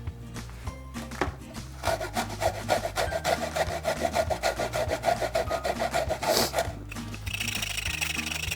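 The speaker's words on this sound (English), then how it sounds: "I'm gonna grate my ginger, cut a fresh edge." Fresh ginger rubbed against a grater with a steady scraping rasp, close and fairly loud, continuous strokes over several seconds.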